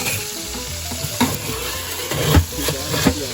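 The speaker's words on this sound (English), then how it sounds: "Everything is roasting very nicely. Potatoes are getting a nice roast on them." Lobster tails and potatoes roasting in a hot brick oven give off a steady close crackle and sizzle, with a few louder pops and scrapes breaking through the continuous fry-like hiss.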